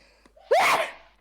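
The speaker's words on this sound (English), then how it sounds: "A sneeze." A single sharp sneeze, preceded by a quick intake of breath, close and loud, then fading quickly.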